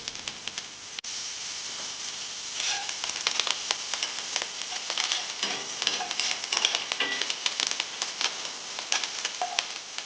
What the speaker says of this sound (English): Add in your thyme, let that sizzle off for a little bit.